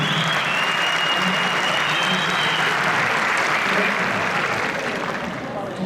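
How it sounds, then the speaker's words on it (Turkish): A crowd claps loudly and continuously at a student scholarship ceremony, a dense wash of applause that tapers slightly toward the end. "Kocaman alkışlarınız"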